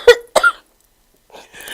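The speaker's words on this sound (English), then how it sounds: "I'm going to cough." Two sharp, close coughs in quick succession from a man, followed by a pause and faint throat sounds.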